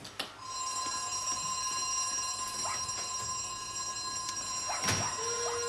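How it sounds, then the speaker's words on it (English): An alarm bell rings continuously and loudly in a house in a British stage comedy, a sustained metallic ringing with a few sharp clicks and a brief rising squeak over it. "Sound the alarm."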